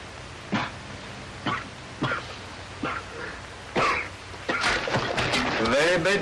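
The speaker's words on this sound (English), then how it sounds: "Very bad cough, my friend." A man coughs in a 1940 Foreign Legion desert film, a series of harsh, separated coughs and throat clearings building into a denser fit with voiced strain at the close.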